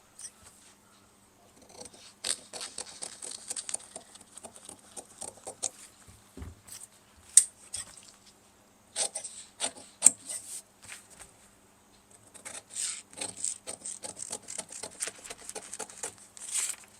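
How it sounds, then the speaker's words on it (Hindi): Scissors snip through a drafted blouse pattern on paper in a series of quick, close, crisp cuts, with short pauses between bursts and no talking. "अब इसको हम फटाफट काट लेते हैं दोस्तों।"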